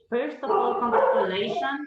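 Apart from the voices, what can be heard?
dog barking during video call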